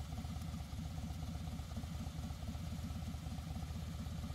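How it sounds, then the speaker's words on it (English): A Harley Davidson Twin Cam motorcycle idles steadily in neutral, its low, rapid, lumpy engine pulse running evenly at close range with no talk over it. "Place the bike in neutral and let the bike warm up for a few minutes."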